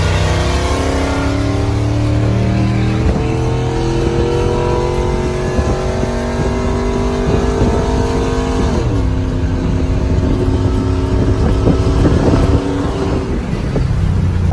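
Truck engine revving hard during an informal street race, rising and falling in pitch with gear changes, loud and close with no talking.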